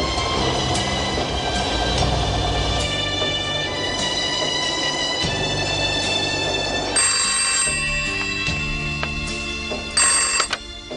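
A telephone rings in a Turkish TV drama scene, repeated bright electronic ring bursts spread across the clip, loud and close, with no talk over them.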